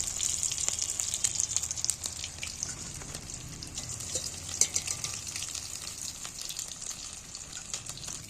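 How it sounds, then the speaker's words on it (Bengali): Pieces of egg frying in hot oil give a steady, bright sizzle with a continuous bubbling crackle, close by and unbroken, with no voices. "এবার বাকি অংশগুলো এইভাবেই ভেজে নেব"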